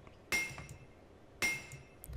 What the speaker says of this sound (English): Hammer it out real quick.